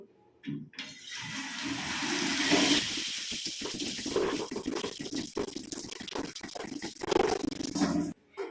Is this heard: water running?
yes